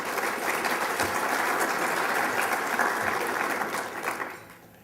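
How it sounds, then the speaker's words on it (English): An audience at a city State of the City address in Torrance breaks into loud, sustained applause, a dense wash of clapping that holds steady before fading out near the end. "That's another round of applause for them."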